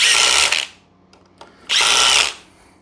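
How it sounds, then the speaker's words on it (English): Dewalt 860 impact driver driving construction screws: two loud close bursts of motor whir with hammering impact rattle, separated by a short pause with faint tool handling. "on these construction screws, also known as spacks or torques, it does begin to impact a little sooner"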